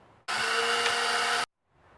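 Power drill bores strainer holes in a drum shell, one loud, steady whir lasting just over a second, starting and stopping abruptly and close up.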